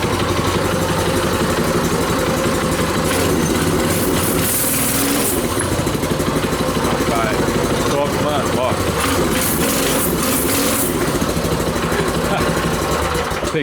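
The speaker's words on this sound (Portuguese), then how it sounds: "Vou ligar pra ver, ó. Eu falei que o carburador é bom de pegar" A homemade 200cc carbureted motorcycle engine runs loud and close, with a continuous rattling, buzzing roar that revs up and down. Voices talk over the engine noise.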